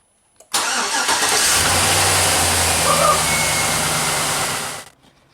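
A GMC/Chevrolet 1500 pickup engine cranks, catches and runs at a steady, loud idle for several seconds close by after a power steering pump replacement, then cuts off abruptly.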